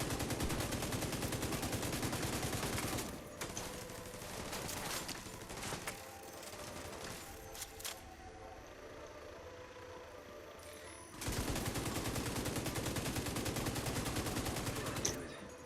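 Pestilence LMG fire in The Division 2 plays as dense, sustained automatic bursts that start loud, drop away into quieter game sounds for several seconds, then return at full strength.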